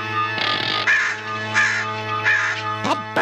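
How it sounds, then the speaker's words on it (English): A cartoon crow cawing in a fantasy adventure scene, several harsh drawn-out caws over a steady humming background drone, ending with a sharper squawk. "That bird gives me the creeps."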